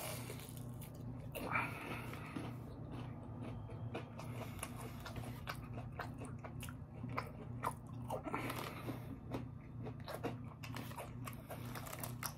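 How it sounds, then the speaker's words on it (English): Crunchy Jack in the Box taco being bitten and chewed up close, repeated crisp crunches over a steady low background hum, with no talk. "Eat the taco."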